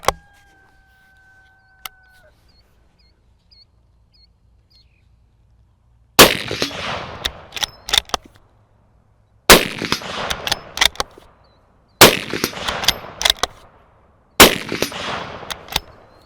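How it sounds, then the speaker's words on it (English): Shots from a Mossberg Patriot rifle in .450 Bushmaster fired standing at a large steel target 100 yards downrange: four loud, sharp reports a few seconds apart, each followed by echoing ring and clatter, with small clicks between. "First thing I'm going to do is just shoot it standing here at the big steel target downrange at 100 yards"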